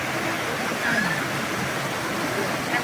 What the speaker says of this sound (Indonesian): Ini nyampe lokasi dulu tempat air terjun lagi viral ya.